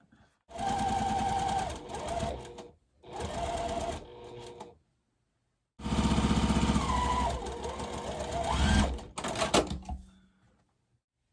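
A sewing machine stitches quilt block pieces in several bursts of rapid running, stopping and starting between seams, close and steady with a whirring motor hum.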